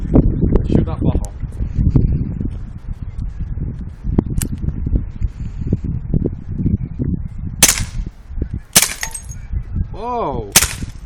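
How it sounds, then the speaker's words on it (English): A Dan Wesson revolver fires outdoors at a bottle, giving several sharp, loud gunshots spread through the clip, with people talking between and around the shots. "Shoot that bottle."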